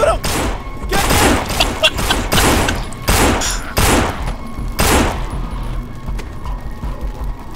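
Gunfire in the zombie game No More Room in Hell: loud, close shots and short bursts crack out irregularly, several sharp blasts separated by brief pauses, with rumbling thuds between them.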